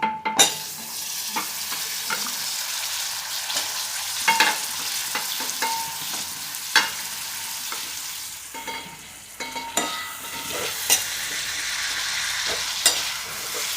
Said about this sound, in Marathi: गवार आणि बटाटे मिक्स करायचे